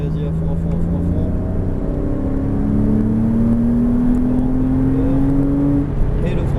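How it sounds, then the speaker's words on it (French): A car on a circuit during a driving course accelerates at full throttle, its engine note climbing steadily and loudly over several seconds while an instructor talks over it. "On reprend du gaz très souple, très progressif et on y va à fond."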